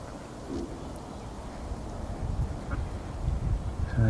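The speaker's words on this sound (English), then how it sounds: "Oh, that was a duck." A duck quacks a few times near a lake during a fishing match, with low, slightly hoarse calls heard amid outdoor rustle and handling noise, fairly close and not loud.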